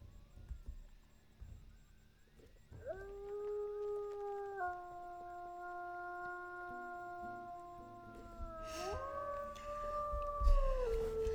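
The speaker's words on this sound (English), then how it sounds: "Who do I hear howling?" In a wilderness video game set in Hellroaring Mountain, wolves or dogs howl in long, layered, sustained tones, rising together and holding before shifting pitch, faint and distant.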